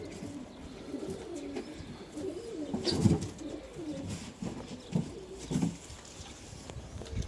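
Pigeons kept by a breeder, including parents of young tumbler pigeons, coo in several low, throaty bursts near the listener, with soft rustling between the calls.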